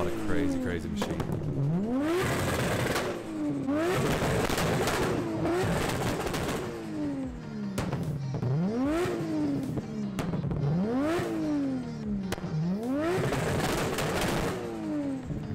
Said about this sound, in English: we saw this R32 GTR shooting flames.